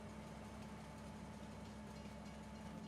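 Train engine running on a railroad in the video game Farming Simulator 22, a steady low mechanical hum with a faint tonal drone, quiet and continuous with no talking.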